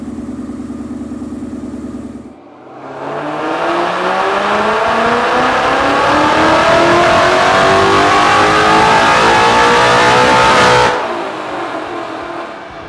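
A Grabber Blue 2017 Mustang GT with a VMP Gen3 supercharger pulls hard on a dyno, its loud engine climbing steadily in pitch through one long full-throttle run before abruptly cutting back toward idle.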